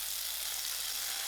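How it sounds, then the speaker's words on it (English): Mustard seeds crackle and pop in hot cooking oil, a steady dense sizzle with fine crackling spread evenly through, close and fairly quiet with no talking. "I will allow the mustard seed to pop."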